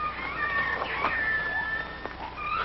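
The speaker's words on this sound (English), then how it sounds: "That's just a little baby lion." A small baby lion cub mewls in continuous high, thin cries, close and fairly loud, with wavering pitch like a kitten's meow.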